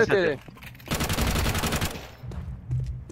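Gunfire in a competitive shooter game lets loose a sustained automatic burst of rapid cracks lasting about a second, with a brief voice just before it and quieter game noise after.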